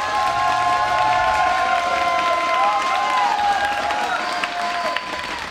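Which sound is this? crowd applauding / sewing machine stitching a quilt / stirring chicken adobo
crowd applauding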